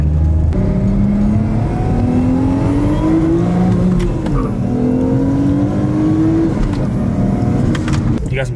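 A car engine revs hard and loud throughout, its pitch climbing and dipping as it is pushed through repeated flybys.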